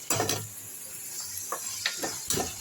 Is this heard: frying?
yes